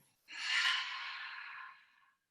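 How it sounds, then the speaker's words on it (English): A long, soft exhale out through the mouth during a calm yoga breathing exercise, one steady breath that swells quickly, holds and then fades gently, heard close and alone. "Softly exhale the breath out through the mouth."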